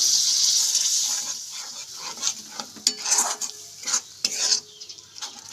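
Spice paste with its soaking water stirred in a pan, a soft sizzle under repeated spoon scrapes and metallic clinks coming in uneven bursts, close up with no speech.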